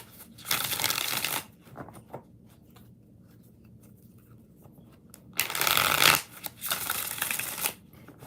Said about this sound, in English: Let's use the purple deck. 5 shuffles.